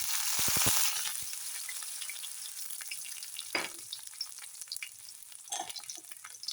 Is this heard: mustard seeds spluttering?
yes